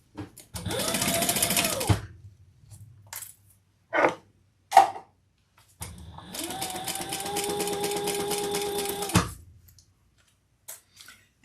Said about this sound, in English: let's stitch that on with the seam allowance